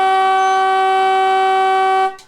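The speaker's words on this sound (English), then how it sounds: "But there is the siren." Final siren at an Australian rules football match between Tooradin and Phillip Island: one long, loud, steady horn-like tone that holds for about two seconds before cutting off abruptly.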